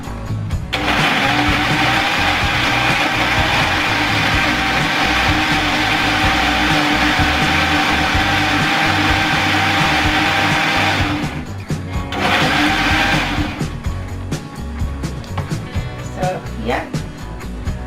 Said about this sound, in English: This blender is really good